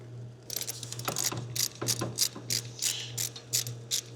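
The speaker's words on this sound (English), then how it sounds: "This little twisty ratchet thing actually comes in handy in this kind of space" Ratchet wrench tightening a spark plug on a Generac 999cc standby generator, a series of about a dozen crisp clicking bursts in an uneven rhythm over a steady low hum.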